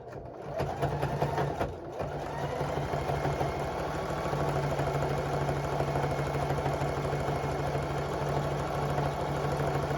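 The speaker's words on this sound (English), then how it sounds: "We're speed sewing a farmhouse rug." A sewing machine runs steadily and fast while stitching a farmhouse jellyroll rug, its motor holding a continuous whir with a fine mechanical chatter for the full stretch, close and alone.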